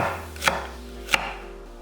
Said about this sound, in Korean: 양파 작은 거 4분의 1기는 살짝 굵게 채 썰어 담고